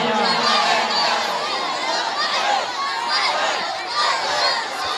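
A large crowd at an urs gathering shouts a religious slogan in unison, loud and continuous, with many voices blending into a dense roar.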